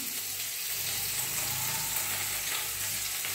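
Potatoes fry in oil in a pan, giving a constant close sizzling hiss with a low bubbling underneath and no talking.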